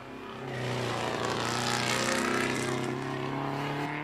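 A rallycross race car's engine runs loud and close through the whole stretch, with a strong buzzing drone, uneven and surging as if misfiring.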